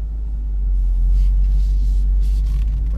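A manual car's engine rumbles low and steady as the clutch is slowly released with no gas applied, a constant close drone without speech.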